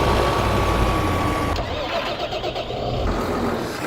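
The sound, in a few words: tractor driving away in video game Farming Simulator 15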